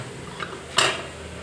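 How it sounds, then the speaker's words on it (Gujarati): A metal lid is set down over a pot of steaming methi muthiya dumplings, giving one soft clink and then a louder clatter that fades into quiet kitchen background. "હવે આપણે ઢાંકી દઈએ."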